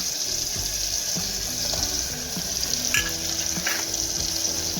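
Potatoes go into a hot pan of frying oil for a Maggi-style rice dish, giving a steady close sizzle with scraping stirs and a few clinks of a utensil, no voices.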